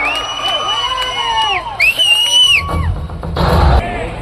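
Crowd at a Davangere high school field function loudly cheering and whooping to welcome Chief Minister Siddaramaiah, with shouts rising and falling over a steady roar and a burst of noise near the end.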